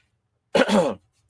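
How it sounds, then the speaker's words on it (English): One sharp, close cough bursts out loudly right at the microphone, brief and harsh, surrounded by silence. "Didn't mean to cough right into the microphone."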